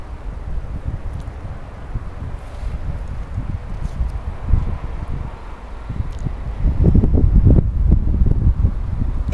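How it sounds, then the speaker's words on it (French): Wind gusts outdoors, buffeting the microphone with low rumbling blasts that strengthen toward the end, with faint rustling in the background. "Et aujourd'hui, il y a quand même du vent."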